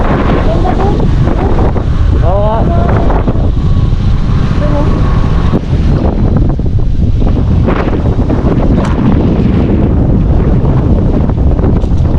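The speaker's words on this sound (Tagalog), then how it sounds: "Medyo malakas ang hangin ngayon dito." Strong wind roars and buffets the microphone throughout at a riverside campsite on the Agos River in Infanta, Quezon, a steady loud rush with occasional gusts, and faint voices beneath it.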